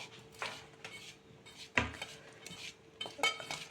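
Chopped vegetables being mixed by hand with squeezed lemon juice in a bowl: soft, close rubbing and squelching with a few sharper knocks against the bowl, quiet and irregular.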